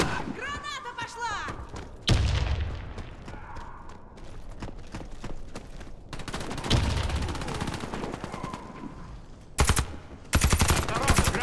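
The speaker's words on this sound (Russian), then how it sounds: "Осторожно, граната! Кидаю гранату!" Online shooter game combat: bursts of rapid automatic gunfire and heavy thumping blasts from a grenade explosion, loud and close, with excited voices talking over the action.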